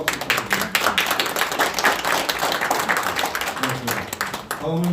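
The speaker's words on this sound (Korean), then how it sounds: "다시 한번 여러분 뜨거운 박수 부탁드립니다." An audience at a press conference on Confucius Institutes in Korea gives a round of clapping, dense and close at first, then thinning, with a voice speaking over it.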